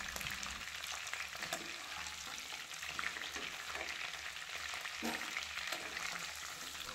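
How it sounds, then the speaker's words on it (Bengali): Dried red chillies and a bay leaf fry in oil left from frying potatoes and pointed gourd, a soft continuous sizzle with faint crackles and occasional clinks, quiet and close, no talking. "ফোড়নে সুন্দর গন্ধ আসা পর্যন্ত মিডিয়াম ফ্লেমে ভাজতে"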